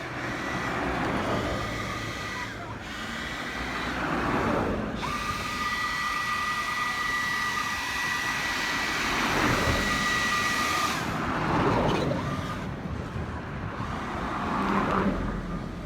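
A powered blower clears heavy dirt and gravel off a road at a roadworks site in Western St Thomas, a loud steady whine with rising and falling surges, mixed with passing traffic.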